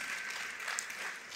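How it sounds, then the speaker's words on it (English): At a church convention gathering, men in the audience clap their hands in a short, steady burst of applause, moderately loud and continuous. "come on the few guys here clap your hands"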